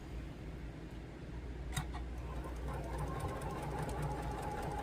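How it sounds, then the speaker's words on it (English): A sewing machine stitching small quilted fabric ornament pieces corner to corner, a steady rapid mechanical whir with fine ticking, running at a moderate pace close by. "I'm going to sew corner to corner"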